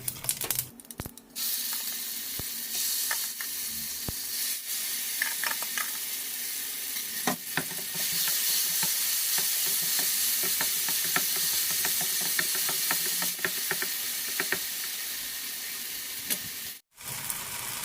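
Brinjal frying in oil in a pan for a smoked brinjal curry, making a steady, close broadband sizzle that swells louder partway through, with a few scattered crackles and stirring clicks and no voices.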